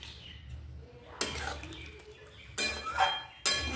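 Dahi potol curry being stirred in a cooking pan, with three distinct bursts of metal spoon scraping and clinking against the pan over a low background hum, close and moderately loud.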